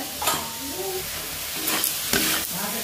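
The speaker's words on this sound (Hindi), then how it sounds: "अच्छी तरह से आलू मसाला को भून लिए हैं" Potato and tomato masala frying in a pan with chilli, coriander and turmeric powders and salt, a steady loud sizzle broken by a few scraping stirs, with no talking.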